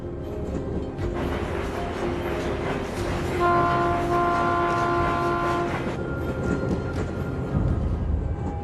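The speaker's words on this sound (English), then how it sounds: "as the train passes through the shadows of the peak's eastern slope" A train rolls along railroad tracks near Pikes Peak with a steady, loud rumble, and a sustained horn blast sounds partway through its pass.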